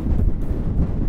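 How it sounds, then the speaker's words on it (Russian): Strong wind buffets the microphone in low, gusty rumbles, loud and close, with no other sounds, at night in Paris. "Да, сильный ветер."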